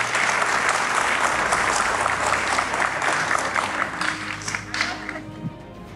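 Loud, dense applause fills an award ceremony hall for a national honor recipient, many hands clapping steadily with crowd murmur and a faint tonal hum beneath, easing slightly toward the end.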